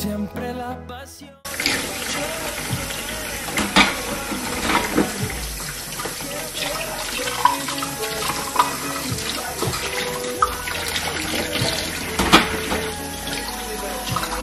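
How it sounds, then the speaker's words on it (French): Dishes being washed under a running kitchen tap, a steady close rush of water with clinks and splashes of plates throughout after a brief quiet start. "j'ai fini de laver les assiettes"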